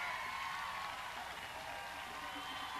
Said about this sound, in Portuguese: O policial ali parou para aplaudir